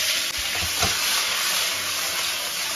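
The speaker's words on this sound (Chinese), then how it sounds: "鸡翅给它稍微翻炒一下啊" Chicken wings with ginger sizzle loudly in hot oil in a wok, a continuous bright frying hiss broken by a few scraping tosses.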